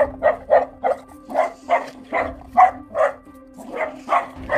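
Several dogs bark at a gate while a boerboel passes by, a steady run of about a dozen loud, evenly spaced barks with no talk over them.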